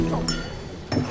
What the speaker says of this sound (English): his glass dropped to the floor at a state banquet